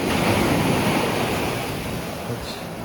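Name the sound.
ocean waves crashing under a rock formation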